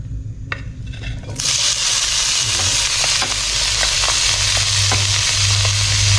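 Blanched mixed vegetables tossed into hot oil in a pan burst into loud, steady sizzling, with occasional scrapes and clinks of stirring over the continuous frying hiss.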